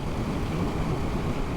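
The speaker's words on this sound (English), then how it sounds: "Freaking windy." Strong wind across open desert in Morocco, a dense, continuous roar buffeting close to the microphone with no other sounds.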